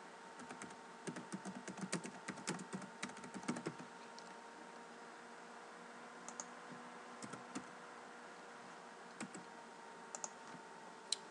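Quiet typing on a computer keyboard at a desk, with a fast burst of keystrokes early on that thins into scattered single clicks over a steady low background hum.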